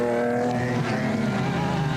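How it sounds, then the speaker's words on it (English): Onboard a Castrol Toyota Land Cruiser rally car with a 5-speed gearbox at the Caledon 400 in 2001, the engine drones loud and close with a wavering pitch and rough rumble beneath. "On board with Reinecker and Houghton in the Castrol Toyota Land Cruiser"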